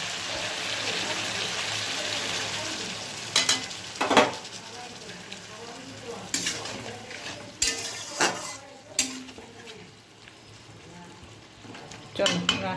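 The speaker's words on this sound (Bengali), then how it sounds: "আঁচটা দিই মশলাটা কষা হোক" Spice masala cooking down with sugar and a little water in a pan while a spatula stirs and scrapes, producing a steady sizzle broken by sharp metal clinks, close and moderately loud.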